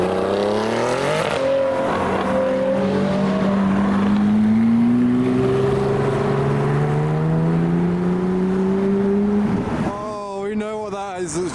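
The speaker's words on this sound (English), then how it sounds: "And the third GT3 RS 4-litre of the day as well." A Porsche GT3 RS 4-litre sports car drives past with a loud, rising engine note that holds for several seconds before it fades. A brief shift near the end comes as the car pulls away.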